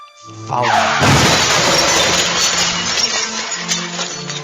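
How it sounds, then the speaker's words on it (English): A sudden loud crash with shattering, tinkling glass that bursts in and lingers as debris settles, over a low background of tones. "Suddenly there came the sound of an accident in the fog."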